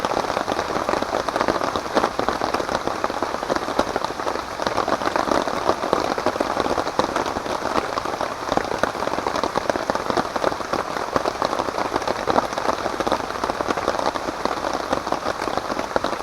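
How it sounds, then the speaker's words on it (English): Steady rain patters densely on a taut tent overhead at a lakeshore campsite at night, a constant close drumming hiss with no voices. "I knew it was going to rain tonight."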